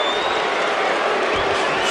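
A large arena crowd at an NBA basketball game between the Miami Heat and the Los Angeles Lakers gives a loud, sustained roar of booing aimed at Gary Payton, with no gaps.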